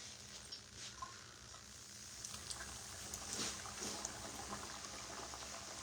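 Food fries in oil in a pan while breakfast is cooked for ten people, giving a soft, steady sizzle with faint crackles and a few small stirring or liquid sounds. No one speaks.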